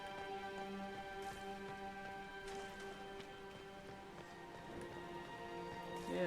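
Rain falls steadily in Dragon Age: Inquisition, a soft continuous patter held under sustained tonal game music, with no voices.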